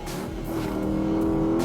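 A 550 hp Porsche Panamera Turbo (971) launches hard under launch control, its engine roaring loud and close with a rising, sustained tone that builds steadily in volume throughout.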